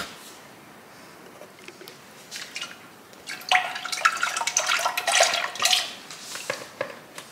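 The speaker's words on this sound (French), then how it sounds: "je vais tout simplement remplir avec de l'eau et pour vider en fait la briquette et mettre ça à l'intérieur." Water poured from a tomato carton into a cooking pot, starting as faint drips and building into a brighter splashing pour near the end, quiet and close with no talking.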